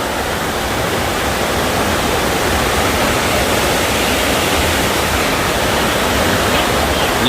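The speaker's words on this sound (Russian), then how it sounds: "Вода с огромным шумом опускается вниз" The Zhigalan waterfalls roar in a loud, dense, unbroken rush of crashing water, a steady wall of white noise heard up close with no pauses or talk.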